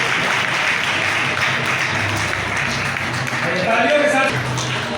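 Applause rolls through a crowd at a Chero tribal community gathering, a continuous clapping wash with a voice audible over it toward the end.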